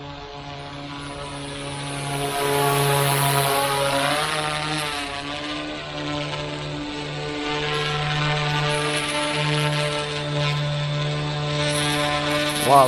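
A V-Coptr Falcon drone from ZeroZero Robotics flies steadily, its propellers giving off a loud, continuous buzzing whine that rises and falls slightly in pitch as the throttle shifts.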